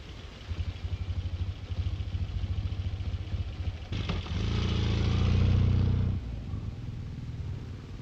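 A 1960s engine fitted with an efficient silencer developed by Southampton University scientists, a steady low rumbling hum that swells into a louder, rougher roar midway before settling back to the quieter drone.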